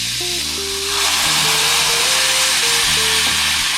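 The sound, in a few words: vegan bacon frying in a pan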